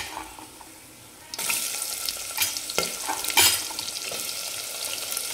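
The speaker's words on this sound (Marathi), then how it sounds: "तर कांदा टाकून घेते लगेच" Chopped onion dropped into a hot pan for a mutton dish cooked with onion and garlic, a quiet start then a sudden rise into sizzling with stirring clatters and a sharp scrape partway through.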